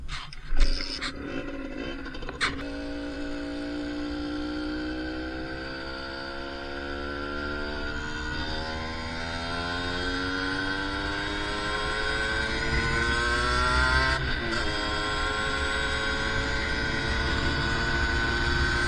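A Yamaha DT50 motorcycle, warm from riding, starts after a couple of kicks and then idles and revs in a steady two-stroke drone that rises and falls, close and continuous, with no speech.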